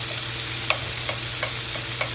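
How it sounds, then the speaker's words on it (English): Chopped jalapeños sautéing in a pan for bacon jalapeño cornbread, with a constant close sizzle and a few soft taps of stirring spaced through it. "we're just gonna saute this up just a little bit."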